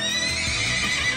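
A horse whinnies in one long, loud neigh with a bright, wavering pitch and a faint clip-clop of hooves beneath it, clean and close, with no voices.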